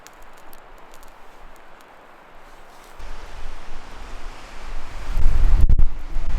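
Strong winter storm wind buffets a campsite, roaring and rumbling against the microphone in a low, steady gale that grows louder and gustier toward the end, with no voices.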